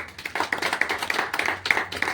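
Applause for municipal workers at a gathering in Kadapa, a brisk patter of many hands clapping close by in quick uneven bursts.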